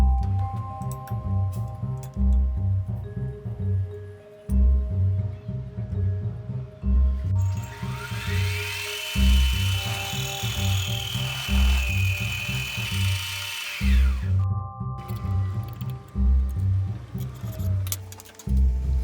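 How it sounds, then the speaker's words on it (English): A saw mitering a steel bicycle frame tube, giving a loud close rhythmic chugging with a high metallic screech as the blade bites into the tube for several seconds, with no talk. "The saw would cut into it, so I will cut my angle from the other side of the tube."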